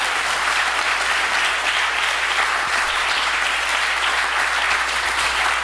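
A room at a ward candidates forum gives a round of applause for four candidates, dense, even clapping that holds steady and loud throughout.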